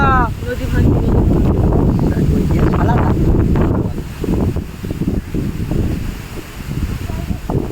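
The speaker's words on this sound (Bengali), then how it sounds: "ওই দেখুন বন্ধুরা কি ঝড় হচ্ছে সুন্দরবন এলাকায়।" Storm wind sweeps across a riverside in the Sundarbans, a heavy, roaring buffet that thumps the microphone and stays loud throughout, easing slightly toward the end, while a voice talks faintly underneath.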